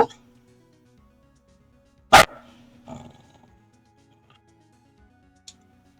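A pet dog named Coco gives a single sharp bark, close and loud, followed by a softer bark or grunt and a faint later sound in an otherwise quiet room.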